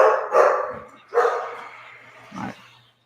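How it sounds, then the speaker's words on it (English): A pet dog barks at home in a few separate sharp barks spaced about a second apart, moderately loud and fading toward the end, with no speech over them. "Sorry about the barking, but it's my stupid dog."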